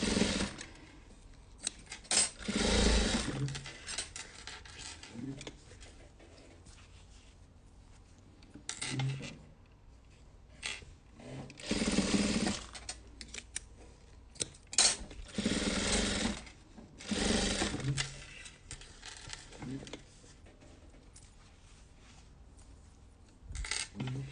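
A sewing machine stitches a second row with ribbon in short, fairly faint bursts of rapid whirring separated by quiet pauses and small handling clicks.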